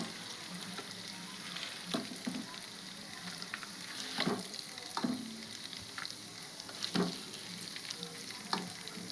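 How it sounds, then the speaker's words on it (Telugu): Eggs fry in oil in a pan for a prawn and egg curry, a faint continuous sizzle broken by a few soft stirring clinks and scrapes, no voices. "గుడ్లు అయితే ఫ్రై అయినాయి, తీస్తున్నాను నేను"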